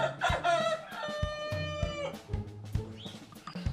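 A rooster along the Portuguese Way between Rubiães and Tui clucks in quick bursts and lets out a raspy crow, close and moderately loud, with scattered rustling around it.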